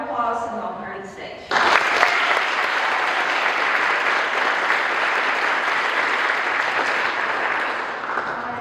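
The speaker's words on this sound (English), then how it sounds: "Let's give Annabel a round of applause and welcome her to the stage." Loud, sustained audience applause bursts in after a brief moment of quieter sound and continues steadily to the end, from a crowd welcoming a presenter to the stage at a student distinction project talk.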